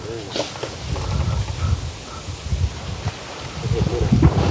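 Gusty wind blows steadily through trees and around a wooden house, a continuous rushing roar with shifting swells and faint rustling throughout.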